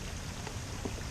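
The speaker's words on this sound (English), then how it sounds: "It's a little bit rainy, but whatever." Light rain falls outdoors beside a river, a steady soft patter of drops spread evenly across the whole moment with no voices.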